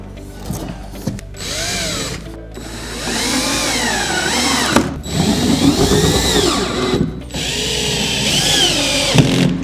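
A power drill drives screws into a NorthPoint Cabinetry base corner cabinet panel. The motor whines loudly and close in several bursts, rising and falling in pitch, with short pauses between screws and no talking.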